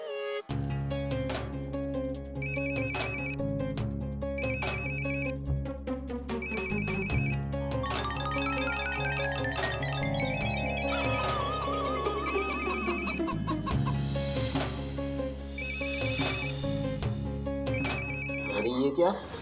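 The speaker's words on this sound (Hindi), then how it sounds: "गोरा लाला का फोन आ गया" Telephone ringtone playing a repeating melodic tune with bright chiming tones in regular bursts, loud and continuous, with background music and voices mixed in.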